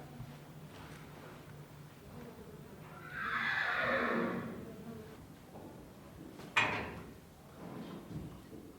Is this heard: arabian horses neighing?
yes